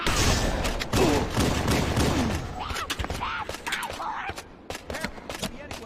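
Rapid bursts of gunfire crackle continuously in a Halo game battle, dense and loud throughout, with voices calling out over the shooting.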